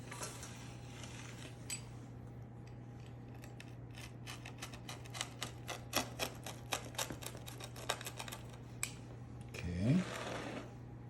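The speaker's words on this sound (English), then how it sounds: "Can you hear that?" A knife or cutter slices through a crispy cast iron pan pizza, giving a quiet series of sharp crackling crunches in a steady burst, followed by a brief soft murmur at the end.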